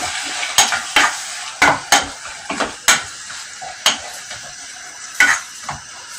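Salted lardons are stirred in a pan for a mozzarella cheese pizza. Sharp, loud scrapes and clacks of the utensil against the pan land at irregular intervals over a quieter sizzle, close up, with no talking.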